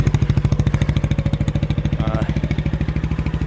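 A Kawasaki Bayou 300 ATV engine idling cold shortly after startup, a loud, close, steady low putter with even rapid firing pulses and a faint mechanical rattle partway through.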